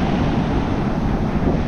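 Sea waves wash continuously near a crumbling shoreline hangout, a dense, loud roar of surf mixed with wind buffeting the microphone, with no voices.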